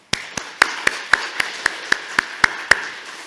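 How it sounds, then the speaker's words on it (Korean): A church congregation claps in unison for thanksgiving, roughly eleven sharp, evenly spaced claps in a steady quick rhythm, fairly close and with no talk over them. "오늘 우리 안덕교회 허락하신 하나님께 감사와 영광의 박수를 드리도록 하겠습니다"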